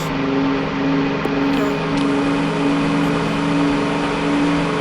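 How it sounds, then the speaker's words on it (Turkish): Car engine in the video game Car Simulator 2 holds a loud, steady high-speed drone with a constant tonal whine, close and continuous, with no voices. "Bu araba 230 basıyordur değil mi abi?"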